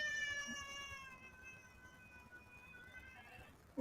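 A cat gives one very long, drawn-out meow that slowly falls in pitch and fades, heard close and alone, ending with a brief clunk.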